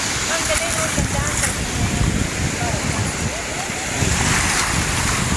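Sea waves break at high tide on a sand and pebble beach in Batangas, a constant rushing surf with wind buffeting the microphone, and faint voices now and then underneath.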